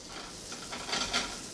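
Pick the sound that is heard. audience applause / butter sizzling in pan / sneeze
butter sizzling in pan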